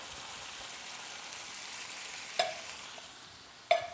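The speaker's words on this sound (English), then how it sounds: "Mix them together, mix all your ingredients together." Black beans with their liquid and rice being stirred together in a pot: a faint, steady low simmering hiss with two sharp spoon knocks against the pot near the end, no talking.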